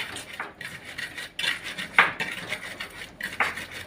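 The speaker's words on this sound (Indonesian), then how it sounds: "Sego karo sambel digoreng." Rice fried with sambal in a pan is stirred briskly, with scraping and clattering utensil strokes arriving in irregular bursts over a soft background sizzle, close and fairly loud, with no talking.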